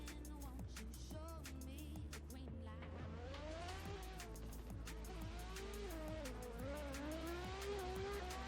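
A car in a drift racing video game spins donuts, its engine revving in rising and falling sweeps while the tires squeal continuously, close and sustained throughout.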